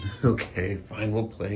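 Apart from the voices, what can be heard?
cat meowing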